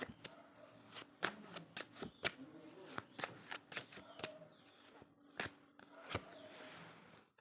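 Tarot cards shuffled and drawn by hand, a close series of crisp slaps and riffles in uneven bursts, with a few quiet gaps between them.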